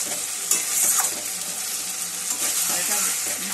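Tora fish stirred and frying in a hot pan, a steady close sizzle with scraping stir strokes throughout, no talking.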